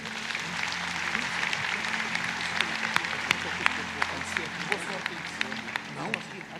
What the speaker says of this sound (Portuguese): vamos receber com uma calorosa salva de palmas o pastor Marco Feliciano